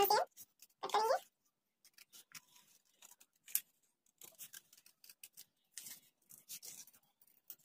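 Scissors cut fabric for a kurti neckline, producing a string of short, crisp snips and scrapes with pauses between them, preceded by a couple of louder bursts at the start.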